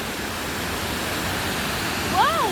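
A waterfall gives off a steady, close, full roar of rushing water that holds even throughout, with a brief high warbling tone rising over it near the end.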